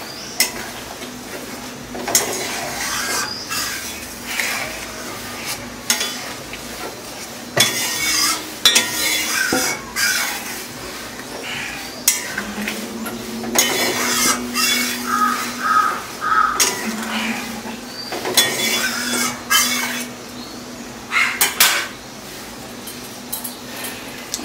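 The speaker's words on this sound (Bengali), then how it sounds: "এখন একটু নেড়ে চেড়ে নিই।" Spoon clinking and scraping in a pan of egg malaikari cooked with coconut milk, a run of irregular metallic taps and stirring strokes over a faint sizzle, with crows cawing in the background.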